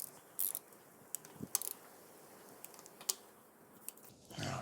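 A torque wrench tightening 10 mm bolts on a Honda GSR engine during a cylinder head reseal gives faint scattered clicks and ratcheting ticks over quiet shop background, with a brief rustle at the end and no talking.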